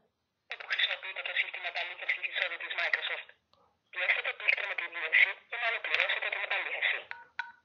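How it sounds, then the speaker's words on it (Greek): A mobile phone rings with a bright electronic ringtone in three sustained bursts, separated by brief pauses, clear and close. "Χτυπάει το κινητό μου."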